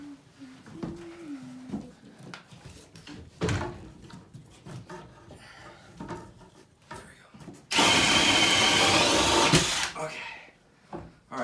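A drill bores through a ceiling joist while running wires through a ceiling, heard as a sustained loud whirring burst of about two seconds after scattered knocks and handling noise, with someone talking around it.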